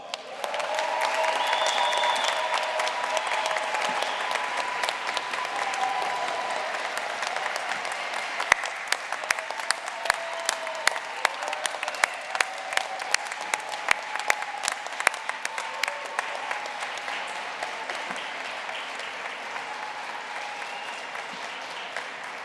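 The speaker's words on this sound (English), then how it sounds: "Let's give them another round of applause." Sustained audience applause at a graduate commencement ceremony, a dense wash of many hands clapping steadily throughout, with a few sharper individual claps standing out in the second half and a faint voice underneath.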